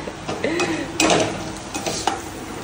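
Chicken meat frying in a pan and being stirred, a busy close sizzle broken by clattering scrapes and knocks of the utensil against the pan, loud and near with no voices.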